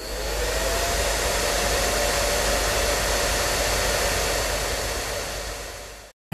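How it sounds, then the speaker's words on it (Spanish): A household hair dryer blows a steady, loud airflow whine for about six seconds, then cuts off abruptly at the end, with no voices. "Para secarme el pelo utilizo el secador."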